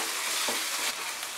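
Chopped tomato hits hot oil and fried spice masala for a Bengali rohu fish curry, giving a steady close sizzle and frying hiss with a brief stirring scrape, no voices.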